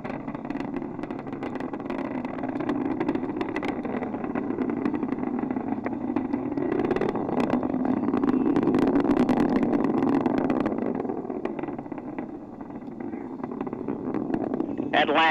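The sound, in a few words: space shuttle Atlantis main engines roaring during launch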